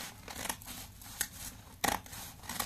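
Scissors cutting fabric for a round skirt, several crisp snips and crunchy blade closures at uneven intervals, close and fairly quiet with no talk.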